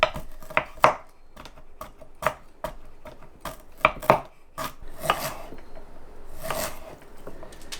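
A knife chops something hard on a cutting board, making a quick run of sharp, close knocks at an uneven rhythm, with no talking.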